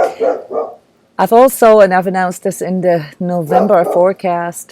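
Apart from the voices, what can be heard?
dog barking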